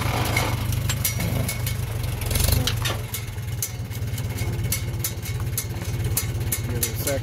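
A Farmall M tractor engine with an M&W 9-speed setup runs in second gear, giving a steady, loud, mid-pitched rhythmic chug with a low, regular pulse. A brief surge in level comes partway through, and faint talk sits under the engine.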